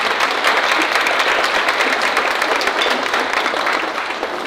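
An audience at a university student council event on artificial intelligence gives a keynote speaker a warm round of applause, thick continuous clapping that stays loud and fades a little toward the close.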